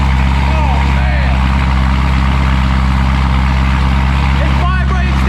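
A 1,000-horsepower Corvette ZR1 fitted with a new flame-shooting exhaust idles loudly and steadily at close range, a deep constant engine drone filling the whole clip while voices cut in over it near the end.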